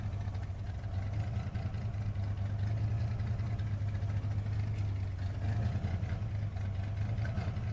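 A race car's engine idles steadily after a race that left it damaged, a low continuous rumble with an even drone, close and unbroken with no talk.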